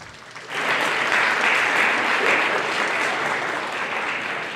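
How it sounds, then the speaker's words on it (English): An audience at a National Honor Society induction bursts into applause after a brief quiet moment, the clapping swelling quickly and holding strong before easing slightly at the end. "Please give a round of applause to all those in the house that have supported you."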